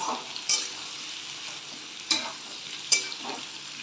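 Potatoes and green jackfruit frying in a pan give a steady soft sizzle, broken by three sharp scrapes or clinks of a spatula.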